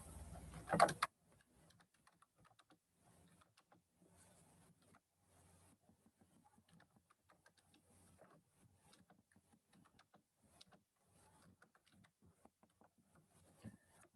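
Faint, scattered keystrokes on a computer keyboard while writing in a code editor, soft and sparse clicks after a brief louder burst at the very start, with no talking.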